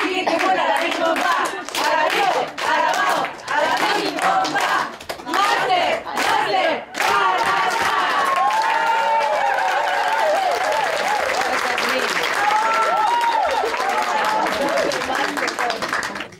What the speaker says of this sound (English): Just cheering, like a football cheerleader.